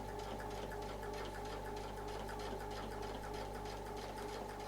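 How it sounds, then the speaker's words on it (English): Sewing machine stitching steadily around a template on an Artisan Curves circle setup, a continuous close motor hum with rapid even stitch rhythm throughout, no talking. "we're going to sew around till we get to the reference line"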